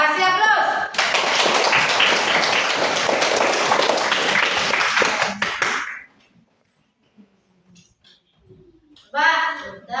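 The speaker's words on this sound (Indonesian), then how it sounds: "kasih aplaus" Students in a classroom give a burst of loud, dense applause lasting about five seconds. The clapping then stops abruptly, leaving near silence before voices come in at the end.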